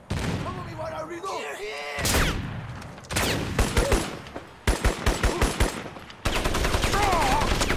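Bursts of machine gun fire from the video game Crysis, several rapid automatic volleys separated by short pauses, loud and sharp with faint talk between them.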